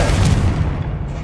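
A loud, close, deep boom from a fiery Confringo spell explosion in the video game Hogwarts Legacy, a brief blast that rumbles and fades.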